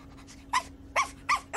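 A dog in an animated series gives several short, sharp barks, about four in quick succession. Each bark is separated by a brief pause, and a low background hum sits underneath.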